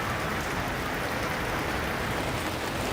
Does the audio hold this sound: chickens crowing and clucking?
no